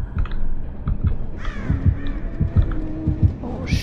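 A crow caws repeatedly in the Dead by Daylight video game, harsh calls rising over a busy game soundscape with rhythmic low thuds and scattered noises.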